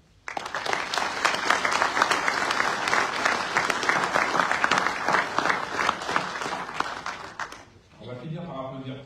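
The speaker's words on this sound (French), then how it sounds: "Je pense qu'on peut les applaudir." Sustained audience applause at a general assembly, loud and dense for about seven seconds before cutting off, followed by a voice speaking.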